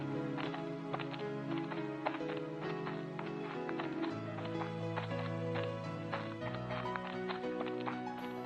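Horse hooves clip-clop at a steady trot as a horse cart moves along in a cartoon, the rhythmic taps sitting over a continuous music bed.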